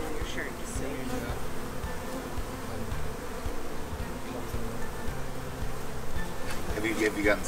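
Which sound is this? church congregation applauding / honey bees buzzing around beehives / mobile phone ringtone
honey bees buzzing around beehives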